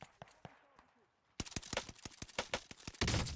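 An epic assault rifle loaded with incendiary rounds fires in Warzone Pacific, a quick string of sharp shots building into a dense burst, with someone talking over the shooting.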